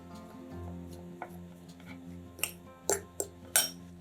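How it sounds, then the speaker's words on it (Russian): Fork mashing boiled egg yolks in a bowl, quiet scraping broken by several sharp clinks of metal on the dish toward the end, close and otherwise calm. "Подготовленные желтки разминаем вилкой."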